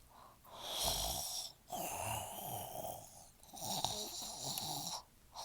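A person imitates snoring with their voice, giving slow, rough, raspy inhaled snores in about three long drawn-out rounds, close and moderately quiet with short gaps between.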